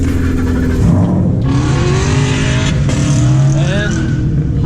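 A high-tech Corvette at a Musclepalooza car show, its engine running with a loud, steady rumble and rising revs close by, while people talk over it.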